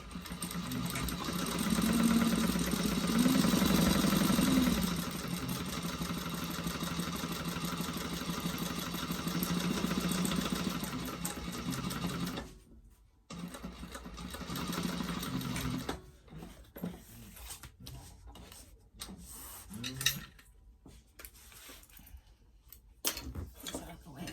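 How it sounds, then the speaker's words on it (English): A sewing machine runs a steady, close stitching drone for about thirteen seconds, sewing a 3/8-inch seam allowance on a panel of a Trailblazer Convertible Pack bag. It stops and is followed by quieter handling sounds and a voice talking. "we're going to sew along there with a 3/8 of an inch seam allowance"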